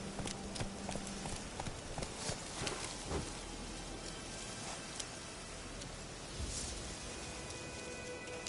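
The horse Roach galloping in The Witcher video game, with fast rhythmic hoofbeats clattering continuously and a faint patter like rain behind them, close and loud, with no talking.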